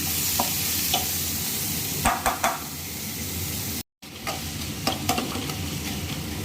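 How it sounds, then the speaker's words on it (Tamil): Tomatoes sauté in a pan for fish curry, a constant close sizzle with intermittent stirring scrapes and light knocks of the spoon, and no speech. "மூணு மீடியம் சைஸ் தக்காளி சேர்த்துருக்காங்க. நல்லா வதங்கட்டும்."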